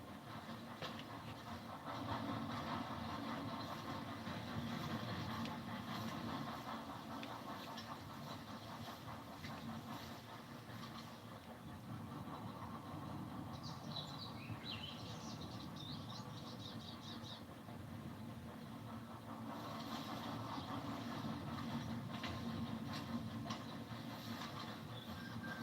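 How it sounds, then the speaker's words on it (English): A train rolls past in the Red Dead Redemption game world, a steady, faint rumbling and clattering of rail cars that holds level throughout, with a brief high squeal or whistle-like sound midway. "The train's actually getting louder as I walk away."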